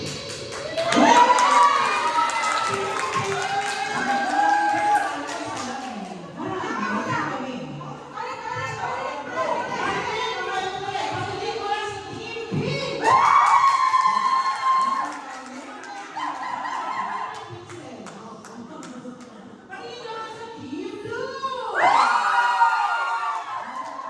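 A crowd at a gender reveal and baby shower party cheers and shouts for Team Pink in several loud bursts of whooping and yelling, including children, mixed with chatter and talk between swells.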